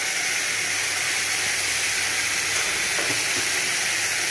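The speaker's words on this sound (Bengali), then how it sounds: "সর্ষে বাটাটা দিয়ে একটু ভেজে নেবো।" Mustard paste frying in a pan for rohu fish kalia gives a continuous, even, fairly loud hiss of sizzling with a faint clink near the end and no voices.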